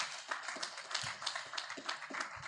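Training-session audience of advocates clapping together, a steady, moderately distant patter of many hands that fills the whole stretch without pause.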